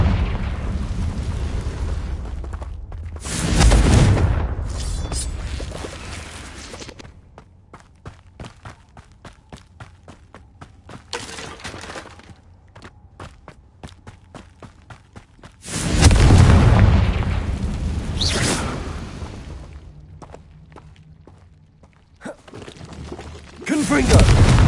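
Confringo blasting spells in Hogwarts Legacy go off as a few loud, rumbling explosive bursts spaced apart, with quieter stretches of crackling between, and a voice calling out spell names.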